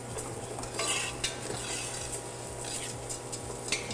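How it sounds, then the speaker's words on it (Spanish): Rice and garlic are stirred in a hot pot, producing a close, repeated scraping of a utensil against the pot over a soft sizzle, with a few light metallic clinks. "Lo mezclo un poquitito, lo voy revolviendo un ratito para que se vaya desprendiendo con el calor el almidón"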